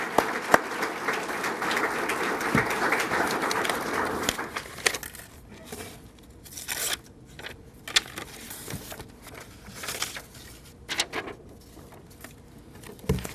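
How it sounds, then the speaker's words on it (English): A luncheon crowd of support staff claps for Larry Bright, a full burst of applause for about four seconds that then thins into scattered, uneven claps and small rustles. "A big round of applause for Mr."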